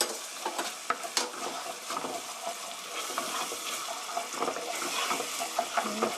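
Chicken spaghetti sauce with gochujang hot pepper paste being stir-fried in a pan, a steady broadband sizzle broken by frequent scraping stirs and clinks, close and fairly loud, with no talking.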